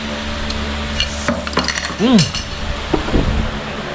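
A spoon clinks and taps against a plate during a meal of chicken at an eatery in San Pablo City, with several sharp metallic chinks close by and a voice talking over them.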